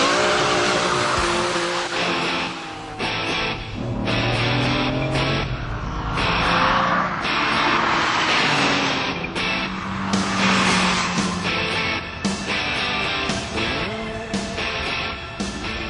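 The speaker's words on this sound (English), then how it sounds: "demonstrate just how fast the Diablo accelerates" A powerful high-revving Lamborghini Diablo V12 roars loudly as it accelerates hard on a track, rising through gears with brief shifts and tire noise.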